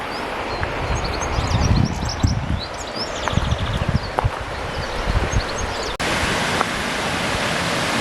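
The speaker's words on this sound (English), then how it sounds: "This is the water garden at Dunvegan." Water running through the water garden at Dunvegan Castle in Scotland, a steady close rushing flow with brief splashes and faint birdsong above it.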